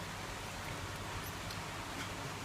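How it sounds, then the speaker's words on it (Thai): Rain falling outside, a faint, uniform wash of broadband hiss that holds steady throughout with no distinct drops or other sounds, and no voices. "ตอนนี้ฝนก็ตกแล้วอาจจะได้ยินเสียงฝนเป็นเอฟเฟกต์บ้างนะครับ"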